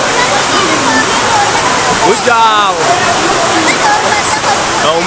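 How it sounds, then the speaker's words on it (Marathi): Heavy monsoon rain pours in a dense, constant roar at a railway station in the Konkan region, with people talking loudly over it. "आता पावसाळ्यात आगमन झालं ये काय इधर पाऊस आला त्याच्यामुळं पाणी जाम आलं"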